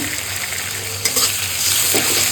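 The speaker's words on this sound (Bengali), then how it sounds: "সমস্ত কিছু এবার আমি ভালো মতো কষাবো" Ginger, garlic and spices fry in a pan for a muri ghonto, giving a steady close sizzle with light stirring scrapes and no voices.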